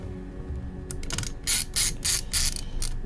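A ratcheting driver backs out motherboard screws on an HP 17t-cn000 laptop, with a few quick, close bursts of crisp clicking after some light handling.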